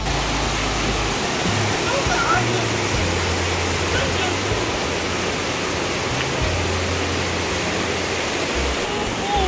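Strong, rushing river water roars steadily and loud throughout, a dense continuous wash close by with a low rumbling underneath.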